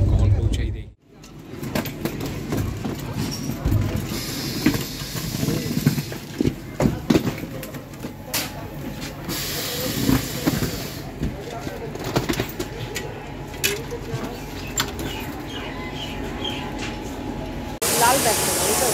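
A delayed passenger train running at night toward Chandigarh gives a continuous rumble with rhythmic clacking of wheels over rail joints and metallic rattles, a sudden dip in the noise early on, and passengers talking throughout.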